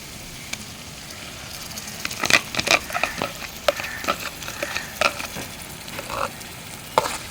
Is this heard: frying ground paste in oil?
yes